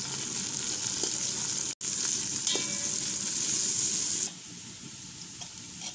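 Green chillies frying with onions in hot oil for mutton pulao make a loud, continuous close sizzle that drops to a softer hiss partway through, with a short break early on.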